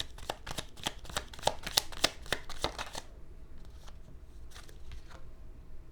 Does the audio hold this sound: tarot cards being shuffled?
yes